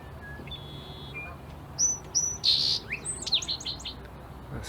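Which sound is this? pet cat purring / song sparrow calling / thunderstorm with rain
song sparrow calling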